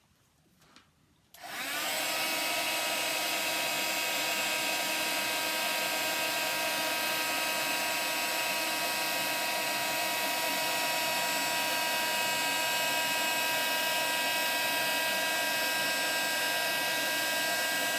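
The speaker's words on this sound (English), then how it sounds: "move your heat gun along fairly quickly as it melts." A heat gun melting vellum starts with a click and then blows a steady, loud, even whoosh close by that runs on without a break.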